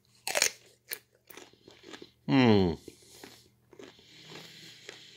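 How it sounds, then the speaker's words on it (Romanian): Crunchy bite into a pickled gherkin: a loud, sharp crunch at mid-clip, preceded by a few softer mouth and chewing sounds, followed by quiet chewing as a voice murmurs in appreciation. "am să mușc dintr-un cornișon."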